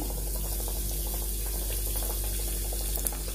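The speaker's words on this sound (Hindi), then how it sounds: "इसको डालेंगे तलने के लिए" Potato kofta sizzling in hot oil, a steady, close, hissing crackle with fine bubbling pops throughout, unbroken and fairly loud for a few seconds.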